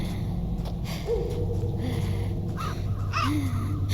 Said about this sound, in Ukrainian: Ворона.